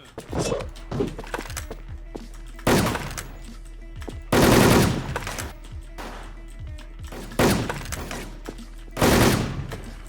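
Rapid gunfire rattles in the video game WolfTeam, several loud bursts of automatic shots spaced a second or two apart, with faint clicks and thuds between them.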